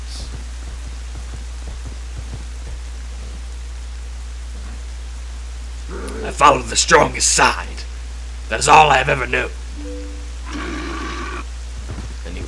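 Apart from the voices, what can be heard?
rain in The Legend of Zelda: Twilight Princess video game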